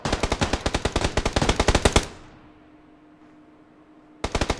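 Rapid automatic gunfire from the battle-royale game PUBG, a loud, dense burst of evenly spaced shots that stops abruptly, leaving a quiet low hum before another close burst erupts at the end.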